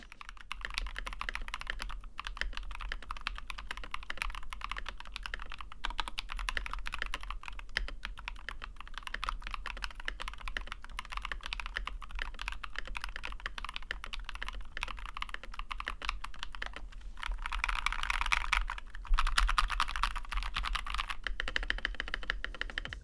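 Continuous fast typing on an aluminum mechanical keyboard with Nightbreeze linear switches and PBT keycaps, dense close clacking that grows busier and louder near the end, with no talking.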